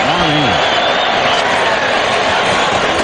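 A stadium crowd of over 75,000 at a Buffalo Bills home football game against the Tennessee Titans roars as a loud, continuous wash of cheering, with a broadcaster speaking over it at the start.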